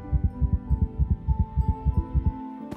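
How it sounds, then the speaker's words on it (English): A cartoon heartbeat sound effect, a steady, loud, deep throbbing pulse of about ten beats in under three seconds over a low hum, heard alone with no voices. "he suddenly felt his heart beat faster in his chest"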